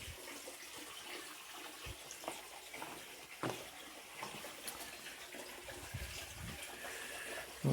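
Water running steadily into a gravel-bottomed planter inside a thermal mass greenhouse, rising toward the overflow level; a continuous, moderately faint trickling and splashing wash with occasional louder gushes, no talking.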